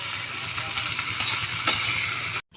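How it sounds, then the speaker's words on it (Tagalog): Beans (batong) sizzle loudly in a hot pan while a utensil scrapes and stirs them, a close, continuous crackle that cuts off abruptly at the end. "Paluto na din ang aming batong."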